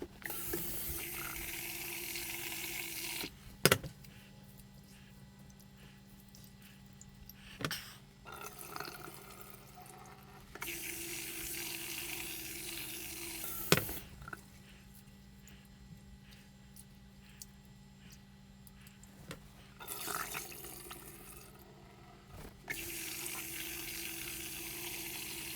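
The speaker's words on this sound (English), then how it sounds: "Now we're gonna rinse the rice." Tap water runs and splashes steadily into rice being rinsed for homemade rice beer, broken by a few sharp clunks and louder surges of flow, close up with no talking.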